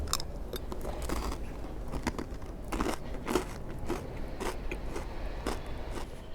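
Repeated crisp crunches of biting into dry toasted bread, close to the ear, irregular bites with crackly chewing in between, no talking.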